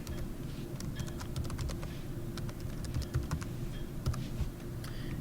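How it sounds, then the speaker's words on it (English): A username being typed on a computer keyboard, with a quick irregular run of close, crisp key clicks over a low steady background hum. "log in, type in your username"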